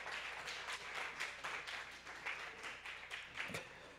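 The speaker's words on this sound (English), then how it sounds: "Please clap for them." A church audience applauds a youth orchestra, steady moderate clapping from many hands continuing throughout, heard from some distance with a faint murmur underneath.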